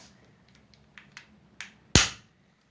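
A toy Nerf gun fires a dart with one sharp, close pop near the end, preceded by a few faint light clicks of handling.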